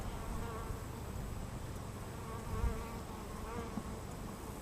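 Honeybees buzz steadily and closely around two new hives during a first-year hive inspection, a dense continuous hum with no voices over it.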